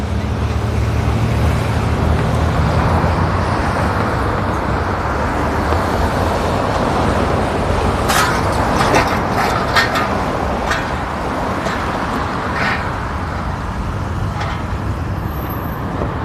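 A bus rumbles past in street traffic on a Youngstown, Ohio road, a loud broadband roar over steady traffic noise, with a few brief sharp clatters midway.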